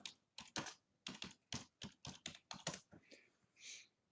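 Quick bursts of keystrokes on a computer keyboard as a search phrase is entered, close and crisp with short pauses between clusters of clicks and a final softer tap sequence.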